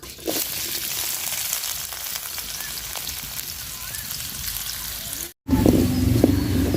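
Onion, cardamom, cinnamon and bay leaf fry in hot oil with a steady, dense sizzle close by. A brief break comes near the end, then the crackle returns louder.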